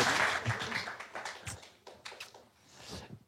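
Audience applause for volunteers during a live public podcast recording: light, scattered claps that come and go at a modest, fairly quiet level.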